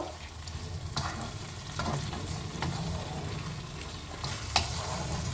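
Spice masala for Bengali katla fish kalia fries in a pan, a quiet continuous low sizzle broken by several sharp spoon scrapes and knocks at irregular intervals while it is stirred; no voices.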